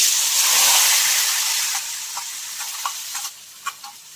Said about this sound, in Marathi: यामध्ये आधी आपण बटाटा घालायचा आहे तेलात.